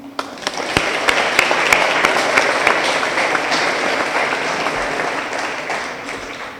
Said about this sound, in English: let's get a round of applause for Lieutenant Moon.